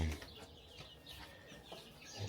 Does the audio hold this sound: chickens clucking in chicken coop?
yes